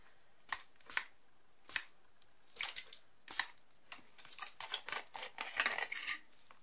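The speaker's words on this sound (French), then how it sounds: "Donc là, je revaporise un petit peu d'eau." A few short sprays of water misted onto a paper craft tag coloured with Distress Oxide spray inks, in separate bursts early on, then a quicker run of closer hissing puffs near the end.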